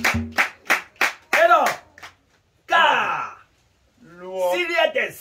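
A church congregation claps for Jesus during a service, with a quick run of sharp handclaps up front, followed by breathy exclamations and voices from the crowd.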